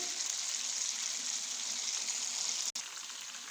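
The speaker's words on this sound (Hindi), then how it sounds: "दरमियानी आंच पे हम इसको फ्राई करेंगे।" Chicken frying over medium heat gives a steady, loud sizzle with a fine crackling hiss throughout, broken once by a brief sharp click near the end.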